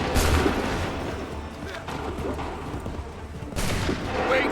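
Massed musket volleys in the Assassin's Creed III Remastered battlefield: a loud crackling volley opens, then a quieter rumble of battle, then a second sharp volley near the end, over a constant wash of combat noise.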